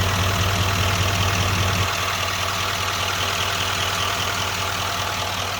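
A Chevrolet Silverado Duramax 3500HD diesel engine idles under the hood with a steady, dense rumble close by, its low clatter easing slightly partway through, with no talking.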